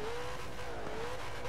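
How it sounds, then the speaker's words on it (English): An International Loadstar truck in Forza Horizon 4 revs its engine in a steady, loud, continuous drone that holds close and even throughout, with no one speaking. "So we'll go ahead and rev it up here and see."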